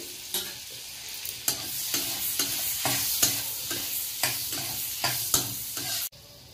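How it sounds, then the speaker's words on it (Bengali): Chopped garlic sizzles in butter or white oil in a pan for chicken vegetable soup, a spatula scraping and stirring in a steady rhythm of strokes roughly every half second, close and clear before stopping abruptly. "এবার দিয়ে দেবো রসুন কুচি, একটু নাড়াচাড়া করে নেব।"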